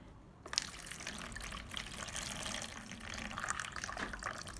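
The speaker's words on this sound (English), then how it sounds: "Pour off the soaking water." Dark soaking water being poured off swollen black beans, a steady close splashing trickle running continuously with no voices.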